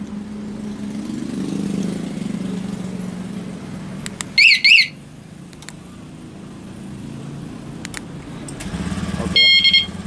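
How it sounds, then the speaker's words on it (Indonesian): A 2019 Honda Beat ESF motorcycle starts by remote alarm. Two quick alarm chirps ring out over a low, steady idle, and a second burst of chirps follows near the end. "sekarang kita hidupkan pakai remote"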